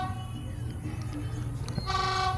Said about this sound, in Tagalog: Ito na yung tren.